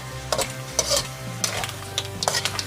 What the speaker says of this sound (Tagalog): Para maigisa muna dito sa ginger ang ating seafoods.